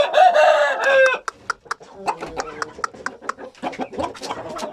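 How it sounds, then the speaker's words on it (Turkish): An Indian breed rooster crows loudly at the start, followed by a string of short clucks and scratchy chicken calls close by. "Tam bir Hint horozu"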